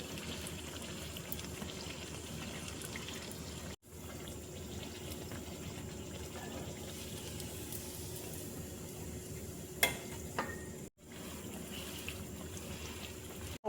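Milk bread dough fries in hot oil, a steady bubbling sizzle with a few small pops and two short breaks, with no voices over it.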